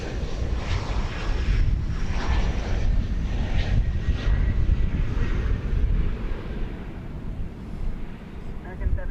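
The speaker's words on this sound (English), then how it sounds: "American Flight 1174 to Bozeman, Montana is lining up to take off" An American Airlines jet bound for Bozeman, Montana takes off at DFW Airport, a loud, steady engine roar with gusty wind buffeting the microphone throughout.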